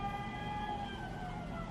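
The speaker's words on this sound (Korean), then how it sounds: "앰뷸런스가 지나가네요." An ambulance siren wails steadily in the distance outdoors, a sustained tonal howl with traffic rumble beneath it, heard briefly and fairly faint with no voices.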